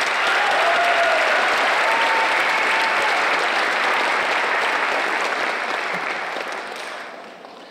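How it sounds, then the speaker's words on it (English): Loud, sustained audience applause for eighth graders at a middle school awards ceremony, a dense wash of clapping from a large crowd that holds steady and then slowly fades out at the end. "Can we get another, a round of applause for our fabulous eighth graders?"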